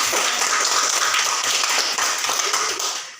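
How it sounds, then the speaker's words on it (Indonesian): A room of teachers at a school workshop claps for themselves, a brisk, dense patter of hands sustained for a few seconds before tapering slightly at the end. "Kita tepuk tangan untuk diri sendiri."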